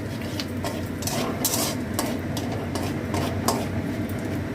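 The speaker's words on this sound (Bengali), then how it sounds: "আচ্ছা, তেজপাতা আর শুকনো লঙ্কাটা ফোড়ন দিলাম।" Bay leaf and dried red chilli tempering in hot ghee, a steady dense sizzle with scattered clinks and scrapes of a spoon against the pan, close and continuous with no talking.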